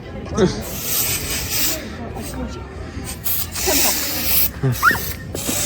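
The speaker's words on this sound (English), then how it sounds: "Just spray it up in the air and all around." Bursts of aerosol spray hiss come and go across the clip, loud and close, with people talking and laughing over them.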